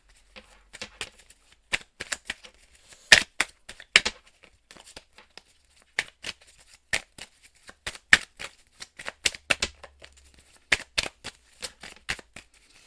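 Tarot-style cards are shuffled for a card reading in quick papery bursts and riffles, close to the listener. The bursts come in irregular clusters with short pauses between them, and there is no talking.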